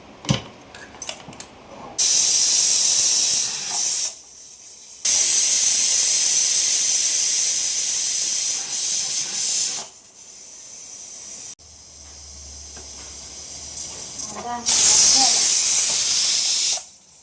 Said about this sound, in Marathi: आता मी कुकरचं झाकण लावते. आता 4 शिट्ट्यांमध्ये भात होऊन जाणार.